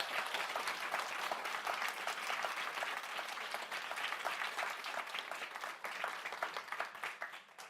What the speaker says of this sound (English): I think we want to do a massive round of applause for these 4 women.